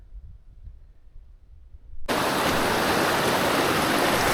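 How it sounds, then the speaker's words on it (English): Fast-moving river at a trail crossing in the 100 Mile Wilderness on the Appalachian Trail, a loud constant rushing roar that cuts in abruptly after quieter ambience and holds steady. "this river is moving pretty fast"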